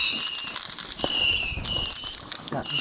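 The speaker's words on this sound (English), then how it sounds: "That's a fireworks, boy, isn't it?" New Year fireworks on a cold January 1st night outdoors, a dense run of crackling pops and bursts close by, with voices talking over them.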